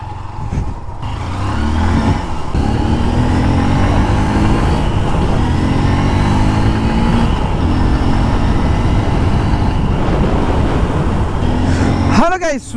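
A Honda Unicorn motorcycle engine idles and runs steadily close by, a continuous low throbbing hum with rising harmonic tones, ending in a brief rev near the close.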